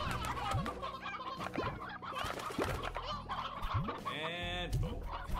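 Chickens in the video game Slime Rancher cluck and gobble repeatedly in choppy bursts, close and lively over a busy game soundscape.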